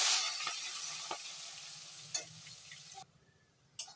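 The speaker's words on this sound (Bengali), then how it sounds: "পেঁয়াজ আর রসুন ভাজা হয়ে গেছে" Onion and garlic fry in hot oil with a dried chilli and bay leaf, giving a bright steady sizzle broken by a few stirring clinks, then quieting abruptly near the end with one last scrape.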